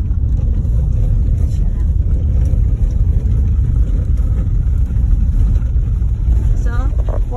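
A car bumps along a rough off-road route toward Cogburn Lake, its engine and road rumble a steady loud low roar throughout, with people talking over it.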